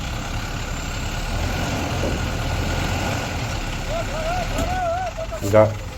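Ashok Leyland truck engine running while towing with a chain, a steady low idling rumble close by, with a short clank near the end and faint voices in the background.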